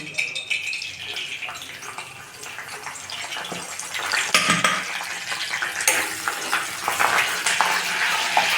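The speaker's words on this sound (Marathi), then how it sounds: "तेल तापलेलं आहे त्याच्यानंतर आपण करी लिप्स टाकूया सगळ्यात प्रथम" Curry leaves go into hot oil in a kadai and spit and crackle loudly, with bursts of frying sizzle and the clatter of a stirring spoon, while a person talks over the cooking.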